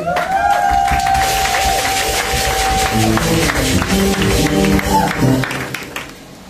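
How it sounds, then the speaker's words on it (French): A church congregation applauds and cheers in a dense wash of clapping, mixed with raised voices and a sustained shout. The sound fades slightly at the end. "applaudissez pour le Seigneur"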